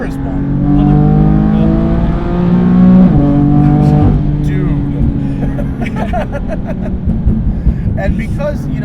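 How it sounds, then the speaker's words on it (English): A turbocharged car accelerates at full throttle on an open road, its exhaust and turbos climbing in pitch through one gear, then dropping at a shift and pulling again. The engine is loud and close, with voices talking over it. "even though I hear the exhaust and the turbos"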